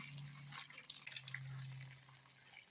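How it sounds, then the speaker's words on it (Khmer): Hot water poured into a container while making Cambodian green vegetable pickles, a quiet trickling, splashing pour with a low hum beneath, brief and close. "ចាក់ទឹកក្តៅដាក់"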